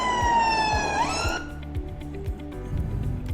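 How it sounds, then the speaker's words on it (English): A siren sound effect sweeps in loud for about a second with a rising and falling wail, then gives way to a muffled rhythmic thumping background. "Or this siren."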